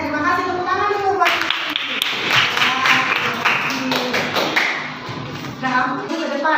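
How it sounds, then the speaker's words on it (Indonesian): Classroom applause from students, scattered hand claps and taps rising after a voice, with children talking over the clapping throughout. "tepuk tangan dulu"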